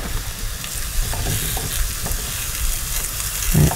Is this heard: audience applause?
no